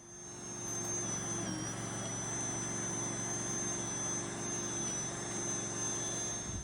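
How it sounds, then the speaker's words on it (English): Steady low rumbling wind noise outdoors at a cow pasture, continuous and fairly loud throughout, with a faint high whine in the background. "I apologize for the wind out here."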